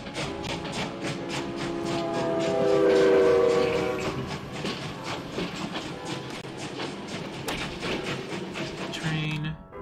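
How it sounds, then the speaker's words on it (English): A normal train rolls past in a dark video game, its loud rumble and rhythmic clatter swelling to a peak with a sustained horn-like tone midway, then easing off while the wheels keep clacking. "It's just a normal train."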